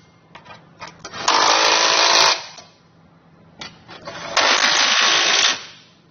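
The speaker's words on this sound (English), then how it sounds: "you can come back with a 22 millimeter socket and snug everything up" Power socket driver snugging the bolts of a Curt trailer hitch receiver on a 2018 Acura MDX: two loud, sustained whirring bursts about a second each, separated by quieter clicks and pauses.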